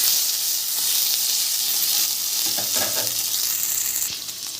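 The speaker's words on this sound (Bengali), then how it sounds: "তেল গরম হয়ে গেছে, শুকনো লঙ্কা তেজপাতা ফোড়ন দেব, মৌরিটা দিয়ে দেব" Dried red chilli, bay leaf and fennel seeds temper in hot oil for a Bengali dal, a loud continuous sizzle and hiss with light stirring, easing off near the end, no voices.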